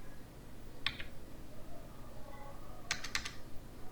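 Quiet computer keyboard taps while entering numbers: a single key press near the start, then a quick cluster of three clicks close together toward the end, with low room hiss between.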